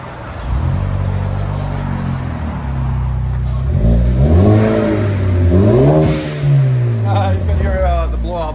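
A 2017 Ford Focus ST with an MBRP cat-back exhaust revving loudly and close, its engine note climbing and falling through several rising pulls before settling back, while someone talks over it.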